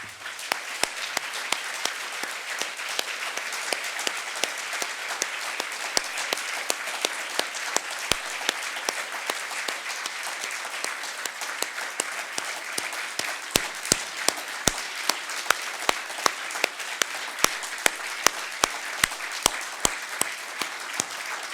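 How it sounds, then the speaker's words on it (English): Sustained applause from a large audience at a journalism awards dinner, honoring journalists who were killed, fills the room steadily for about twenty seconds, with sharper individual claps standing out near the end. "Let us rise together and applaud their courage and their work"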